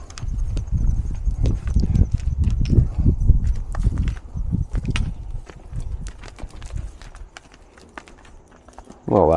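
A horse ridden bareback walks with steady, close clip-clopping hooves that fade softer toward the end.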